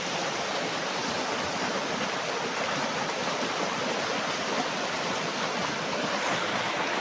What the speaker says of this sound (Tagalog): Malakas pa ang agos.